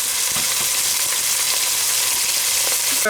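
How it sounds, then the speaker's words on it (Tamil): Onion and green chilli sauté in hot oil for a spicy mutton curry, giving a loud, dense, unbroken sizzle close up with no voices. "இந்த வெங்காயமும் மிளகாயும் போட்டு நான் எண்ணெயில் வதக்கிறேன்"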